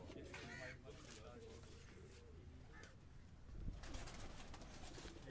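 Silver-breed pigeons coo and flutter in a rooftop loft in Karachi, with soft bird calls rising and falling over a steady background murmur.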